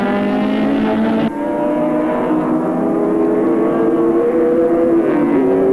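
A 5.7 litre Ford Falcon touring car at Oran Park in 1984 roars loudly down the straight, its big engine revved hard near 7,500 rpm in a steady, rising howl with a brief shift dip early on.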